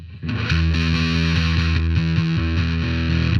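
An electric guitar chugs through heavy distortion from a DOD American Metal pedal, repeated palm-muted chords with a thick, fuzzy, saturated tone, loud and alone.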